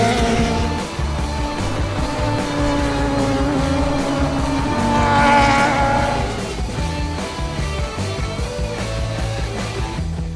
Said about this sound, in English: drivers getting absolutely rattled as they go over some massive bumps in the final turn